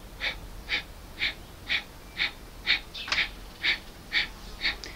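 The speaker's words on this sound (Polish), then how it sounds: "Zamykamy oczy i robimy oddech ognia." Rapid rhythmic breath-of-fire breathing in a Kundalini yoga kriya, about ten sharp nasal exhales at a steady pace, close and clear with no talking.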